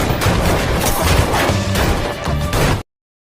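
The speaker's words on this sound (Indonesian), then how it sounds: "Dan baku tembak pun tak bisa dihindarkan." Loud, dense burst of gunfire from a film shootout, rapid overlapping shots and crashes packed together for about three seconds before cutting off abruptly.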